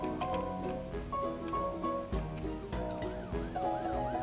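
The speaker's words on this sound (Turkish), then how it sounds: "Aa siren sesleri geliyor." A wailing siren in the Roblox game Brookhaven rises and falls repeatedly over busy electronic game music and sound effects, fairly loud and continuous.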